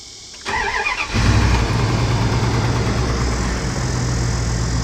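A truck engine with a lower end knock cranks briefly with a starter whir, then catches and settles into a loud, steady rumbling idle.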